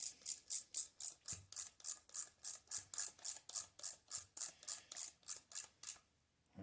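A socket threads a stud into the intake/exhaust side of a 1.8 Miata engine, giving a steady run of about twenty quick ratcheting clicks, close and crisp, that stop abruptly near the end.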